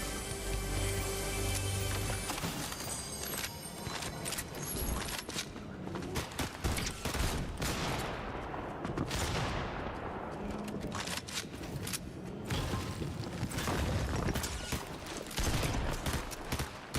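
Gunfire in Warzone rattles in repeated bursts and single cracks, loud and close, mixed with game music and mechanical clatter over the whole stretch.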